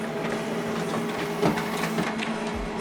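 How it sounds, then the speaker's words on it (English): An HP printer printing a document double-sided, with a steady mechanical whir and hum of paper feeding, a brief louder clunk midway and a change in motor tone near the end, close by. "So now this document is printing."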